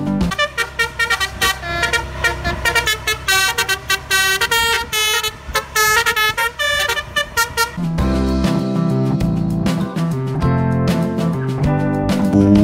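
Sudiro Tunggal Jaya bus blaring its telolet musical horn, a loud nearby stream of quick staccato melodic toots followed by a denser, sustained, lower-pitched horn chord sequence.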